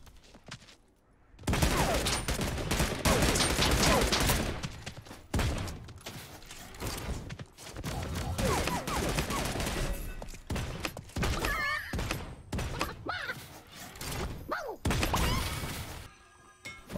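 Gunfire in the battle royale game Realm Royale, with rapid bursts of shots and fusillades crackling in repeated loud volleys and short pauses between, mixed with shattering and impact sounds.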